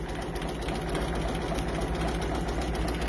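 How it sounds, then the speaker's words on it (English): A Baby Lock Capella embroidery machine stitches over 3D puff foam at a slowed 600 stitches per minute, a loud, continuous mechanical hum with a steady rapid pulse close by. "it slows the machine down to 600 stitches per minute. So that way it's going to be sure to cover the puffy foam"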